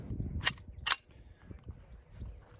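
Two sharp gunshots from a Hi-Point Gen 2 .45 ACP pistol firing jacketed hollow points, about half a second apart, loud and close, followed by quieter handling noise.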